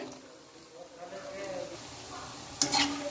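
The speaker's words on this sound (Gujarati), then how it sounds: "આ રીતના આપણે ઉલટ પુલટ કરીને તળી લેવાના છે." Methi pakoras turned over while deep frying in oil on a medium flame, a low steady sizzle with a sharp clink of a utensil near the end.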